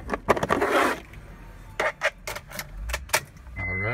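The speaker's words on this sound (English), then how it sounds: "Put the key in." A key going into the ignition of a Honda Odyssey, heard as close, jangling metallic clinks and scrapes from the keyring in short bursts, then a brief rising tone at the end.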